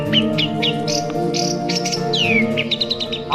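Several birds sing in quick, bright chirps and rising and falling whistles, close and fairly loud, layered over a steady low hum.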